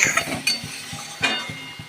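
A spoon stirs prawn dopiaza in a pan with yogurt and green chillies, producing a run of soft scraping knocks and light clinks in an uneven rhythm, up close with no talking.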